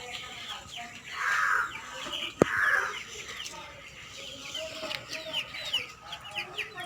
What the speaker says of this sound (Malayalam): കുട്ടികളെ വിരിക്കുന്ന ഒരു തരം കോഴിയാണ് അറുപതാം കോഴി